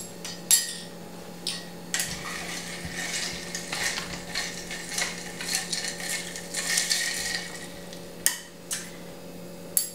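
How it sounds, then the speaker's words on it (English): A Moscow Mule with lime juice is stirred, producing soft scraping and faint clinks of a spoon against glass and ice, with a few sharper taps near the start and end. "Now we will stir."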